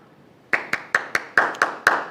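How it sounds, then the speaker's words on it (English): Seven sharp hand claps ring out one after another at an uneven, unhurried pace, close and loud after a brief quiet start, with no talking. "Now, I have to start the clap."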